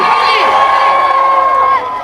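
A crowd of people, children among them, cheers and shouts together at close range, a loud sustained roar of whoops and yells that stays steady, then eases slightly near the end.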